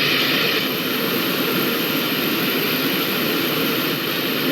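Airplane engines run before takeoff on a business class flight, a steady, loud broadband roar and hiss heard from inside the cabin with no change in pitch.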